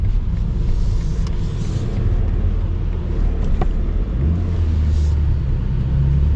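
A 2026 BMW M4 Competition with a twin-turbo inline six drives in sport mode, producing a steady, loud low engine rumble and road drone that holds throughout, with a slight swell near the end.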